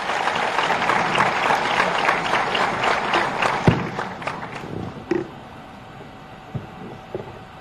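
Applause at a teachers' honouring ceremony attended by the Uttar Pradesh chief minister, a hall full of clapping that tapers off midway, leaving a quiet hum and a few scattered sharp knocks.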